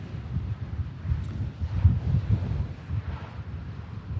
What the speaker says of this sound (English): So it is going to get a lot windier than this.